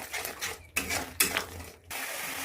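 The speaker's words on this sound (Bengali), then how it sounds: "ভালো করে নেড়ে চেড়ে নেবো।" A spoon clinks and scrapes in a pan while poppy seed and prawn masala is stirred, several distinct metallic knocks over a soft background hiss, with no voices.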